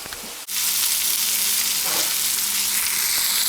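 Onions frying in a saucepan as the base for cabbage soup, a loud close sizzle and crackle that swells after a brief stir and keeps going steadily without talk.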